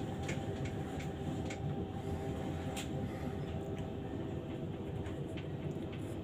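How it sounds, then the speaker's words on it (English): A C2C passenger train heard from inside a carriage: a steady, loud rumble of wheels and running gear fills the whole stretch, with faint clicks and rattles of the coach, and no talking. "Gonna get off train now."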